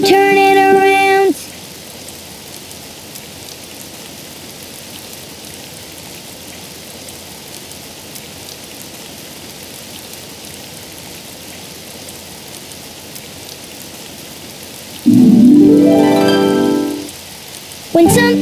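Steady, even hiss of rain falling outside, running unbroken for most of the stretch, with brief tonal sounds at the very start and end.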